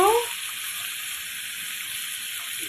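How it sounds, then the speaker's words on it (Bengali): Hilsa fish frying in hot oil, a steady broad sizzle that stays loud and even after a brief opening burst, close up, with no talk. "গরম তেলের মধ্যে আমরা একে একে মাছগুলো দিয়ে দিচ্ছি"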